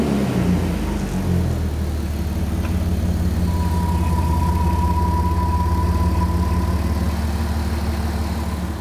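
A Porsche Cayenne engine, just repaired, catches and settles into a steady, close idle, its deep rumble holding even throughout with no one speaking.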